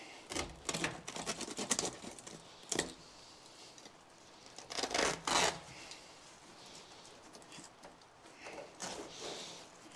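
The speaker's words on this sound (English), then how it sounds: "I'm going to grab a knife and we'll just cut around that stuff for now" Knife cutting and tearing old interior material out of an abandoned 1967 Chevy C10 truck, heard as rough rasping and scraping strokes in uneven bursts, close by with pauses between them.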